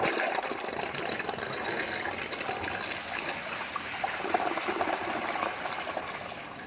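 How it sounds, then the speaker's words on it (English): A toilet with a 4D flushing mechanism flushes in a steady, full rush of gushing water that runs evenly for several seconds, broad and moderately loud throughout. "this is the 4D flushing mechanism that we have"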